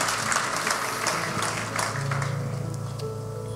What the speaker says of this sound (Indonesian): Boleh tepuk tangan, kita beri kemuliaan.